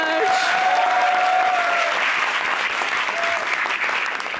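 Studio audience applauding to welcome actress Shazeal Shoukat onto a talk show stage, loud continuous clapping throughout with a brief voice rising over it near the start.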